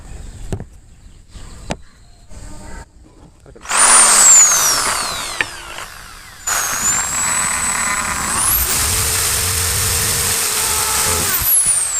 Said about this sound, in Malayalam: ഇനി ഈ രണ്ട് പോയിന്റ് നമുക്കൊന്ന് ഡ്രില്ല് ചെയ്തെടുക്കാം